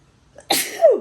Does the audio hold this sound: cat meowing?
no